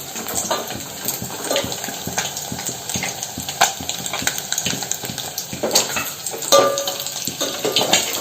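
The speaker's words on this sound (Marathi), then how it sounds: "मम्मी आता अंड्याची भाजी करत आहे." Egg curry cooking in a pan on a home stove, with a steady sizzle, clinks and scraping stirs running throughout, fairly close and loud, with no voices.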